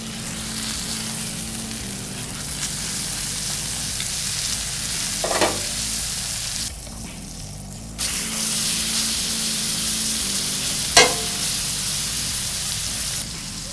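Marinated flank steak fries in a cast iron skillet with a loud, steady sizzle and spitting hiss, broken by a brief dip and a couple of sharp clinks as it cooks.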